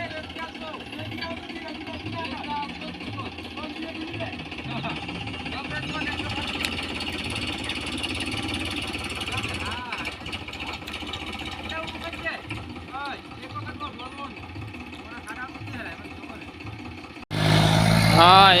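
Sonalika and Mahindra tractors stuck in mud during rain run their engines with a continuous low rumble, mostly under steady conversation, with a louder burst of noise at the very end.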